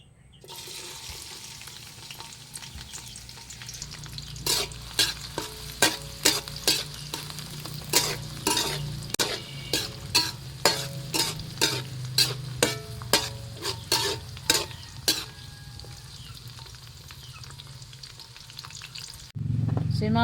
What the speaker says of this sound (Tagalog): So mga kapit, gisa na natin to.